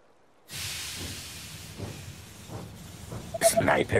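In the They Are Billions strategy game, a train pulls into the station with a long steam hiss and low mechanical rumbling, ending in a short burst of clanks and chimes, as a game announcer voice speaks.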